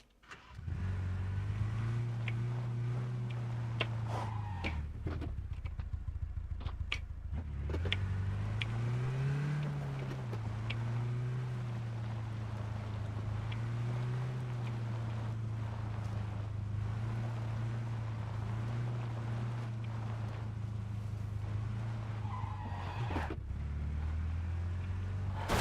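A vehicle engine drones steadily in PUBG, rising and falling in pitch as it accelerates and shifts through gears, close and continuous with wind noise and no talk.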